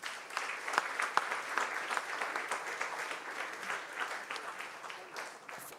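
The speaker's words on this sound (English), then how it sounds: "So I want us to give a rousing applause to the cohort number 2." Steady audience applause at an investor demo day for a startup accelerator cohort, a faint, even patter of many hands clapping with a few sharper claps early on, heard from a distance.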